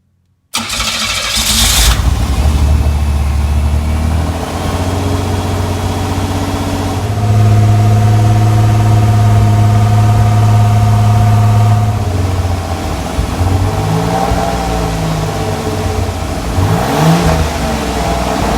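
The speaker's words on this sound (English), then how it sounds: "Let's go ahead and fire it up." A kit car engine cranks and catches, settling into a steady loud idle, then revs up and down in a few swells near the end.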